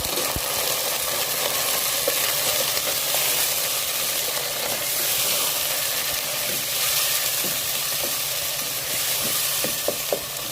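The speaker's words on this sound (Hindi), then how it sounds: "अब हम इसमें डालेंगे अदरक लहसुन का पेस्ट और साथ ही हम इसमें ऐड कर देंगे अपने टमाटो" Ginger garlic paste and tomatoes frying in a pan with browned onions for methi chicken: a steady, loud sizzle and hiss runs unbroken throughout, with a few faint clicks of a utensil.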